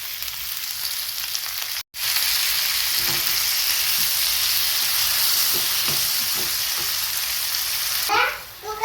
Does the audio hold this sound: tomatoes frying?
yes